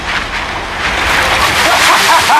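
Ocean surf rolls and crashes in a dense, loud, continuous roar with wind buffeting the microphone, as big waves break close by from a boat heading toward an island.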